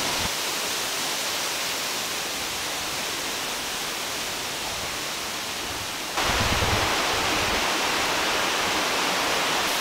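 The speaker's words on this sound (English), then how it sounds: "I'm gonna jump in the waterfall." Waterfall in a hot outdoor Hong Kong setting, a steady broadband rush of falling water filling the whole clip, close and loud, growing louder and fuller partway through with no voices over it.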